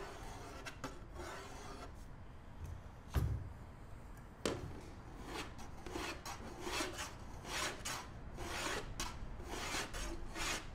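Knife carving a chilled square cake, producing repeated rasping, scraping strokes in an irregular rhythm with a couple of sharp knocks, close and fairly quiet with no speech.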